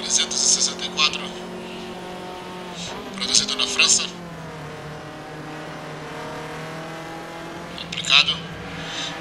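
An Alpine A364 Formula 2 race car from 1972, its engine droning steadily under continuous Portuguese race commentary, with brief louder bursts of engine noise rising above the talk.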